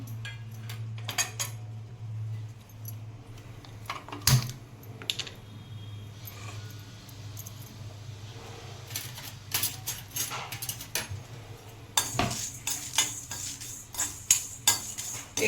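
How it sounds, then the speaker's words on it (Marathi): Whole spices dry-roasting in a hot kadhai for a Konkani-style black pea curry, with steady scraping and stirring clinks from a spoon against the pan, some louder metallic knocks, and a faint background hum throughout. "पहिला आहे ना खडा मसाला मी भाजून घेते"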